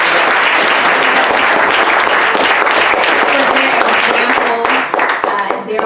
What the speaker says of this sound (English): let's give the little ones a round of applause today